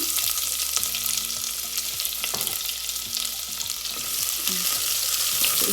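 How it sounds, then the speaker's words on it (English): Chopped onion, bay leaf and cinnamon stick crackle in hot oil with a dense, continuous hiss. Occasional stirring scrapes cut through, and a faint low hum runs underneath. "I'm going to put bay leaf and cinnamon stick, as well as I'm going to put chopped onion."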